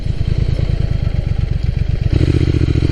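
A Triumph Thruxton RS motorcycle engine runs loud and close, with a rapid, even thumping idle beat that shifts to a deeper, heavier throb near the end, with no voices.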